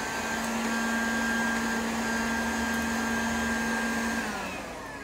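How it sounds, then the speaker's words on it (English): A vacuum cleaner is used to clean around the rim of a smoke alarm, its steady close whine and airflow roar running continuously before tapering slightly at the end. "now we're gonna vacuum around all around the rim of this smoke alarm"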